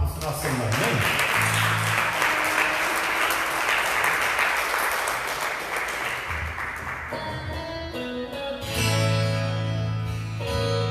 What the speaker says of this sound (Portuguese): Dá uma salva de palmas para o nosso Senhor, amém?